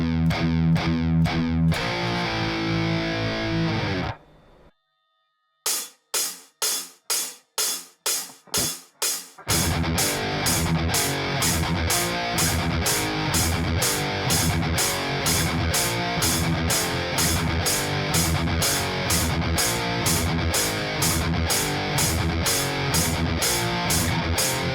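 Heavily distorted electric guitar chugs through a metal rhythm bar: a sliding chord, a brief gap, a run of sharp staccato hits, then a dense stream of fast, evenly spaced muted strums, loud and alone.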